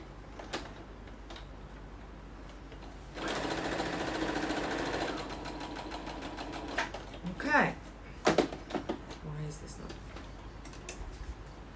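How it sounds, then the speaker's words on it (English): A sewing machine top stitching around the edge of a roll-up bag runs in a steady burst of about two seconds, followed by clicks and handling noises while a person talks quietly. "we're just doing a little top stitch around the edge"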